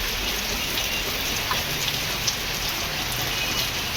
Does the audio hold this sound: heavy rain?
yes